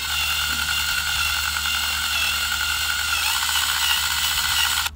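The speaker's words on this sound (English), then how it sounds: "carefully align your drill bit with your points and begin drilling" A power drill whirs steadily and loudly for the whole stretch, its pitch dipping slightly as the bit bores into the wall to mount a garden hose holder.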